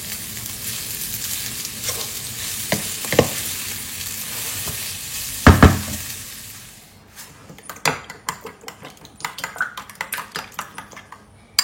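Potatoes frying and being stirred in a pan for a home family dinner, broadband sizzle in the first half with a few scraping clinks, then quieter scattered utensil knocks and clatter near the end.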